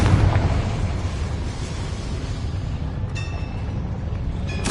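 Explosion from a Confringo blasting spell: a loud burst at the start that decays into a long rumbling roar, with a short bright crackle late in the clip.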